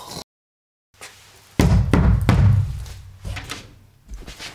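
A door thuds loudly shut indoors after a brief silence, and a cluster of heavy knocks and bangs follows, close and reverberant.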